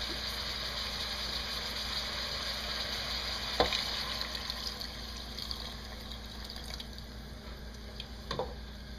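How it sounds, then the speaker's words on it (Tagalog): Pork frying in a pan sizzles steadily as a little water is added, a continuous crackling hiss with a few sharp pops and clatters along the way. "After doing this, lalagyan lang natin ng konting water."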